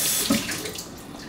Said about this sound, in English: Give them a really good rinse in the strainer